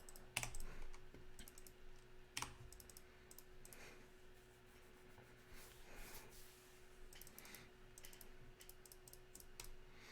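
Computer keyboard typing during an online Pauper Magic card game session, with scattered clicks and clacks in irregular bursts at moderate loudness, a couple of sharper louder strikes standing out over a steady background hum.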